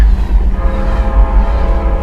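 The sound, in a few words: distant train whistle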